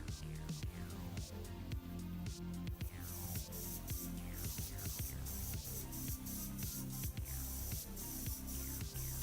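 An airbrush spray gun hisses steadily as it sprays paint onto Zaku model weapons, a continuous close airy spray with short pauses and faint clicks from handling between passes.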